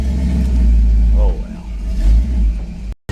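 A dually truck engine cranks a little long, then rumbles low and loud, revving up and down in surges, with a brief voice over it before an abrupt cut.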